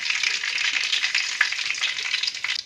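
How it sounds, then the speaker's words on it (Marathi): Cumin and mustard seeds sizzle and crackle steadily in hot oil in a pan, an even bright frying hiss with scattered pops throughout, close and moderately loud, with no talking. "तर तेल चांगलं गरम झालंय आता जिरे आणि मोहरी टाकून घेते"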